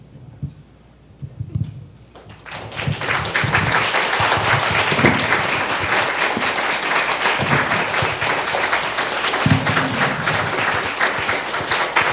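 A church congregation applauds at an ordination thanksgiving service, starting with a few scattered claps and then swelling into loud, sustained, dense clapping that fills the room, with faint voices underneath.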